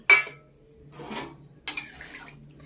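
Paneer pieces dropped into a cauliflower curry in a pan, with a sharp metal clatter of utensils up front, a softer scraping rustle after a pause, then another clatter and stirring, all close and without talk.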